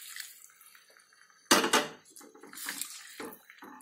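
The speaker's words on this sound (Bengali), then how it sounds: "এবার আমি জল দেব।" Water is poured into a pan of potato curry and splashes briefly, with clinks of pan and utensil. A few softer clatters follow, close and fairly quiet.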